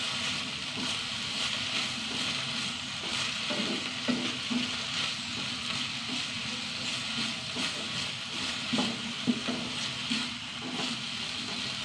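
Green chillies sauté in a hot pan, giving a continuous crackling sizzle with soft stirring scrapes every so often, steady and close throughout.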